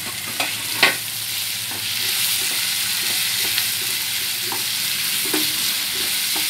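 Sliced onion, tomato and capsicum frying in oil in a pan, a steady close sizzle with scattered scraping clicks from stirring, no voices.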